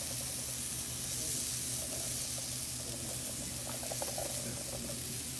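Vegetables and zucchini sizzle steadily in a hot pan on a farm dinner cooking line, a continuous close frying hiss with faint stirring clatter and no speech.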